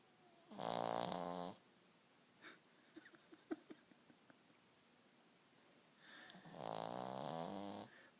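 A sleeping dog snores loudly in a quiet room, two long rasping snore breaths a few seconds apart, close by, with faint snuffles and small rustles in between.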